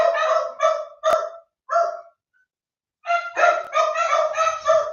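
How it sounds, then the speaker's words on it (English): Dogs barking at home in a run of sharp, loud, close bursts, then a brief lull before a rapid continuous stretch of barks. "I'm gonna quieten the dogs"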